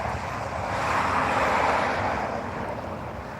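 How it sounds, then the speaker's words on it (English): A heavy engine roar from a truck or a CSX freight train near Carlton, Georgia, rumbles steadily at a distance, swelling through the middle and easing off toward the end. "I just heard like a roar of an engine"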